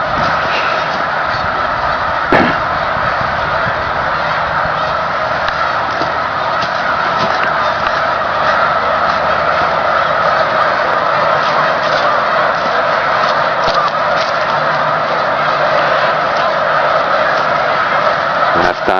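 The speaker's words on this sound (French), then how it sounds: "les oies blanches du lac Massawippi. Attention, vous allez voir ça décoller." Snow geese on Lake Massawippi lifting off the water, a dense, continuous wash of honking and wingbeats from a large flock, steady and loud throughout with one sharp knock near the start.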